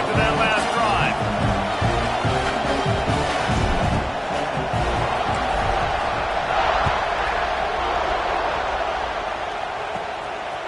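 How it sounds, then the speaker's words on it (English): A stadium crowd in a college football video game roars continuously and loudly, a thick sustained wash of cheering, with a commentator talking over it throughout. "this crowd is feeling themselves after that last drive"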